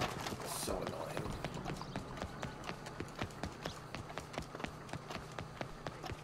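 Horse hooves pound in a steady fast gallop in Red Dead Online, a rapid rhythmic clip-clop under a continuous wash of game ambience, with talk over it.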